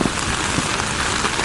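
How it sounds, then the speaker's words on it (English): Steady rain patters on surfaces close by at a canoe camping site on an island, a continuous dense hiss with no voices. "Hurry up, it's raining."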